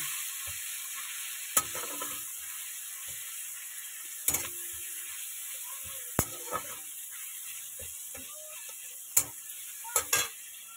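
Onions and tomatoes frying in a pan, a steady soft sizzle with sharp scraping clicks from a spatula stirring every couple of seconds, close and fairly quiet with no talking.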